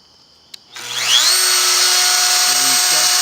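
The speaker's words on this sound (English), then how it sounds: "we're going to router out the perimeter of all of our side pieces" A power router starts up with a brief click and then a whine that rises to a loud, steady high-pitched scream as it cuts the perimeter of wooden side pieces, holding continuously to the end.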